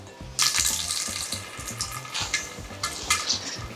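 Water drains from mixed vegetables tipped over a kitchen sink, making a series of close splashing, gushing bursts with short pauses, and nobody speaking.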